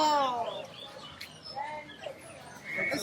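Small birds chirp in a walk-through aviary at Disney's Animal Kingdom, with a quick run of bright calls near the start and scattered tweets after, under people talking excitedly.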